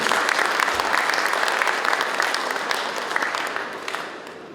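Audience applause at a Gyeongsangbuk-do APEC summit results briefing, a thick wash of many hands clapping that stays strong before gradually fading toward the end.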